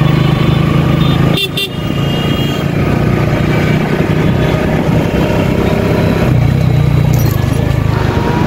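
A motorcycle rides through busy night traffic in Aftab Nagar, Dhaka, with a steady loud roar of engines and road noise and occasional car horns honking in the surrounding traffic.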